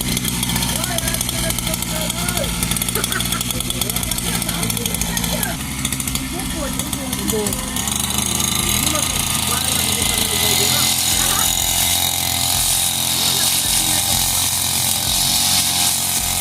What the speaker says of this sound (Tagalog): Maandar na yung mower.